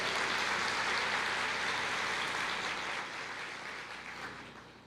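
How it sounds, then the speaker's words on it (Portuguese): A church congregation applauds during a sermon; dense, steady clapping fills the room, then gradually thins and fades toward the end. "Dá uma salva de palmas para eles aí."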